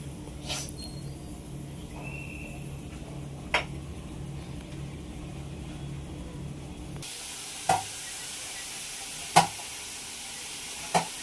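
Onion roasts in a pan with a steady low sizzle. A few sharp utensil clicks are heard, and partway through the hiss becomes brighter and louder.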